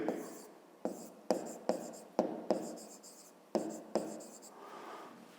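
Pen strokes on notebook paper, written out while working a fifth-grade geometry exercise: a steady run of sharp taps and brisk scratches close to the microphone, about nine distinct strokes in irregular rhythm with no talking.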